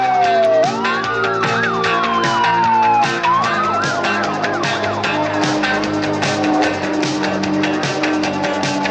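Emergency vehicle sirens from fire engines and ambulances sent to an international fair in Algiers, several wailing and yelping tones overlapping loudly and continuously over a dense backdrop of traffic and street noise.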